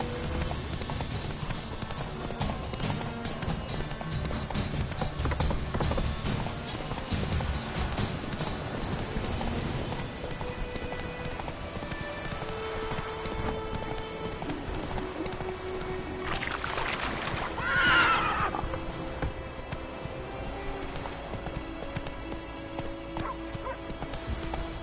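Roach, the horse in The Witcher 3 video game, gallops with steady rapid hoofbeats under game music and ambience, then gives a clear neigh partway through.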